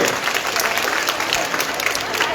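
An audience at a school felicitation ceremony in Islampur claps for honoured students, a dense, even burst of applause filling the hall with some crowd murmur underneath.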